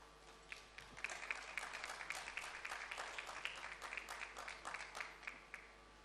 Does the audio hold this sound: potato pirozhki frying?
no